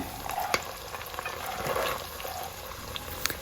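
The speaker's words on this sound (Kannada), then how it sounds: "ಫ್ರೈ ಮಾಡಿಕೊಳ್ಳುವ. ಸ್ವಲ್ಪ ಹಸಿರು ಬಟಾಣಿ" Green peas frying in a pan for tomato rice, a steady soft sizzle and stir with a few sharp clicks of a spoon against the pan, close and even throughout.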